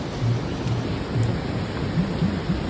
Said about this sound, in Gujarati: આ વરસાદ નથી આવતો આ ઝરણા હે ને એનું આવે છે